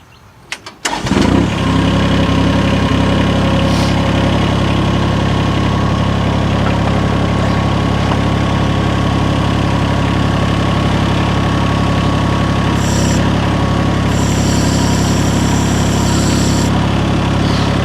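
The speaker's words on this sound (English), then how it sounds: "what I'm going to do now is actually start the engine so I can use the drive motor to hopefully pull the track on." A mini excavator engine cranks and catches after a few brief clicks, then settles into a loud, steady diesel idle that runs unbroken, with a faint mechanical whine joining near the end.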